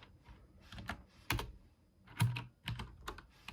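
Irregular clusters of keyboard key clicks, some louder thumps among lighter taps, close up with no talking.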